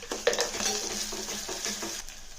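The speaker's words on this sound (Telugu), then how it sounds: "కొంచెం కరివేపాకు వేసి వీటిని వేయించడం ఇది లైట్ గోల్డెన్ బ్రౌన్ వచ్చిన దాకా వేయకూడదు" Onions fry with curry leaves and a little salt in a pan, a soft steady sizzle up close broken by light rhythmic stirring scrapes of a utensil.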